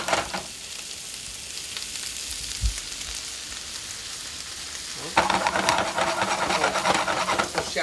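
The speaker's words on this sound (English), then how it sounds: "So shallots cooking, let that butter" Shallots cooking in butter in a pan, a steady soft sizzle that grows louder and brighter partway through, as if stirred or the heat rises, heard with no talking.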